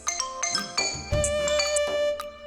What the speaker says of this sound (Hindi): रिंगटोन अच्छी है।